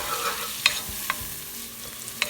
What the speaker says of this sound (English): Just saute it well into this soup.